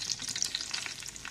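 Dried red chillies crackle and sizzle in hot oil, a short, close burst of bright spitting pops with no voices.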